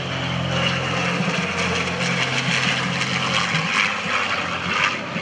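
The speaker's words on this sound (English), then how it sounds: "From the right, the F-16 Fighting Falcon, piloted by Major Congdon, and the P-51 Mustang, flown by Lee Lauderback." An F-16 Fighting Falcon and a P-51 Mustang of the USAF Heritage Flight make an airshow flyby together, a loud continuous roar of jet and propeller engine with a low steady drone running throughout.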